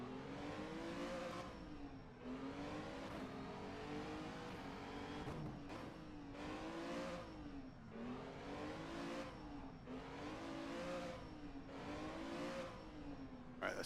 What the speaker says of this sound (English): we'll do some practice starts where we really floor it